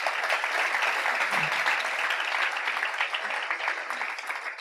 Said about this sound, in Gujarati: ધન્યવાદ, તાળીથી વધાવો